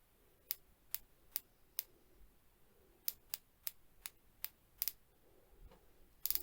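A watch bezel with 120 clicks is turned in short bursts, giving sharp, crisp, close ticks, sometimes spaced and sometimes doubled or in quick runs, against quiet with no talking.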